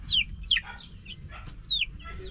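Rhode Island and Dekalb Brown chickens cluck and squawk close by, several rising calls over a low rumble of background noise.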